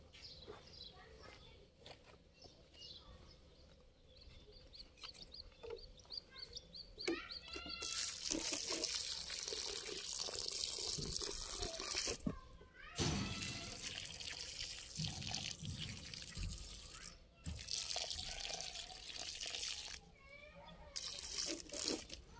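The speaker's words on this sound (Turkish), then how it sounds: "Şimdi bunlara can suyu vereceğiz." Water poured from a bottle splashes onto soil around freshly planted tomato seedlings in a garden, a sustained close trickle with brief pauses, while chickens cluck in the background.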